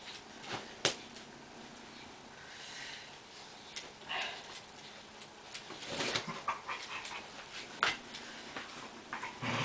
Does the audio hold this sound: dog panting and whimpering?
yes